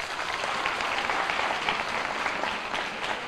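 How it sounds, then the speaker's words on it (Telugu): College students clap together in a steady, dense round of applause that carries on throughout, fairly loud and close, with no talk over it. "ఒక్కసారి సోల్మన్ గట్టిగా చప్పట్లు కొట్టరా"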